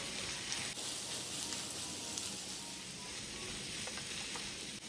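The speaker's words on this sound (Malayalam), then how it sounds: "ഇനി ഇതൊന്ന് ഇളക്കി കൊടുക്കാം." Chili flakes, turmeric, pepper powder and other spices cooking in a hot pan, giving a faint, continuous hissing sizzle with a couple of small scrapes from a spoon stirring them.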